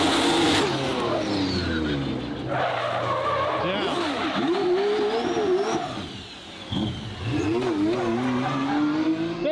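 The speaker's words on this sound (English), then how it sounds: "And Damon's controlling wheel spin by his foot versus a computer." An all-wheel-drive BMW launches against a Ferrari F12 in a drag race, its engine revving hard while the tires squeal and spin, loud and close for most of the run with a brief dip near the middle.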